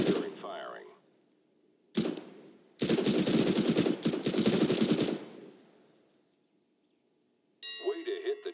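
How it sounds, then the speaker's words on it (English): Rapid gunfire from a weapon in the Counter-Strike: Global Offensive training course, loud close bursts of automatic shots separated by short pauses, followed by a brief metallic clang near the end. "Observe your bullet spread and weapon kick during firing."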